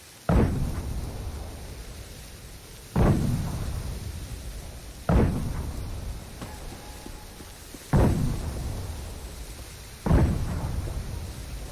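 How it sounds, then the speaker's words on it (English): Explosive artillery strikes in the video game Insurgency: Sandstorm, five heavy booming blasts roughly every two to three seconds, each with a sharp onset and a long rumbling decay. "We need you to fire explosive artillery here."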